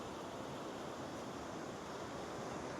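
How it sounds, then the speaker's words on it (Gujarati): Steady, dense outdoor rain hisses continuously and evenly at the start of a downpour near a flooding stream, loud and broadband with no speech over it. "અને હવે વરસાદ આવી ગયો છે."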